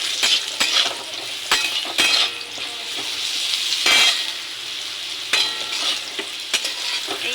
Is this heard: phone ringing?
no